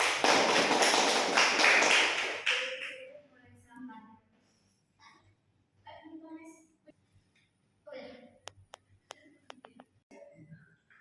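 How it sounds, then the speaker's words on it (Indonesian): Classroom applause for a student named Risa during a practical lesson, a dense burst of clapping for about two seconds that quickly fades, followed by scattered taps and soft talk in the room. "Beri aplaus untuk Risa."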